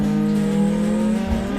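Drift car in the Assetto Corsa sim on the Ebisu track, engine droning at a steady high pitch close by as it climbs through the gears, with a slight dip near the end and faint tire noise under it.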